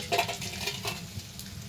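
Bori lentil dumplings frying in a pan, a soft steady sizzle with light stirring clinks and scrapes, close and fairly quiet, no voices.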